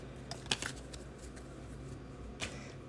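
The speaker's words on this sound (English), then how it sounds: "Give me a second to shuffle here" Tarot cards shuffled by hand during a weekly reading, soft riffling and flicking at close range with a couple of crisper snaps, no talking over it.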